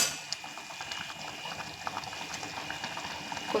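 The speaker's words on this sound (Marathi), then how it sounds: "साराला उकळी आलेली आहे." Thin saar curry boils in a pot on a gas stove, giving a soft, steady bubbling and simmering with faint crackles throughout, with no voices.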